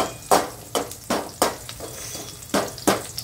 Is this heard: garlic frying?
yes